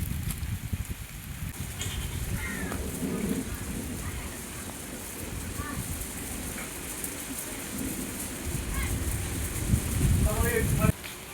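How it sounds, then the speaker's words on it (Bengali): Steady rain falls outdoors, a dense continuous patter and hiss on surfaces with occasional louder drops, close and fairly loud, while a person speaks intermittently over it. "তো এই দেখো বৃষ্টি হচ্ছে।"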